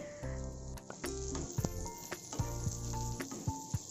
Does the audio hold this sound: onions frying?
yes